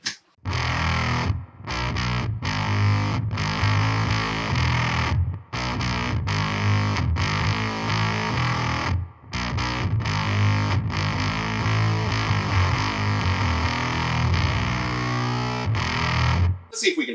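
Electric bass guitar run through a Warm Audio Foxy Tone Box octave fuzz pedal with the octave engaged and the bass tone knob rolled off, giving a thick, buzzy, distorted sustained tone over a repeating riff with brief pauses between phrases.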